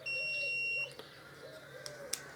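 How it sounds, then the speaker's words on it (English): A Harley-Davidson Electra Glide motorcycle part emits a single steady electronic beep of nearly a second when pressed, followed by faint clicks and a quiet hum. "As soon as I press you can hear the beep"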